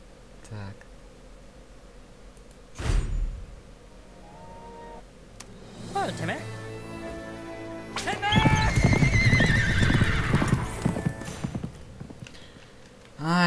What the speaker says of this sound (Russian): Это что там за лошадка такая была?